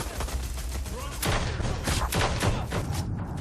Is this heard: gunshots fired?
yes